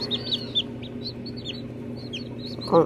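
Newly hatched chicks in an incubator peep constantly, a chorus of high, falling chirps close by, ending with a brief louder rustle.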